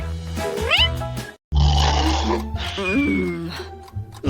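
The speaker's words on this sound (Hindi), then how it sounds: "जेन, मुझे लगता है तुम्हारी बिल्ली मुझसे दोस्ती करना चाहती है" A cat meows in drawn-out, wavering cries that rise and fall, with a brief gap of silence midway, close and fairly loud.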